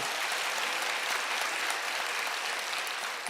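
A church congregation clapping together during a Korean worship service, a dense, even wash of hand claps held at a steady level throughout without breaks.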